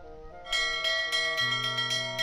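A church bell in the video game The Whispered World rings with a series of bright, resonant strikes over sustained tones, the peals repeating in a steady rhythm and ringing on loudly without any talk.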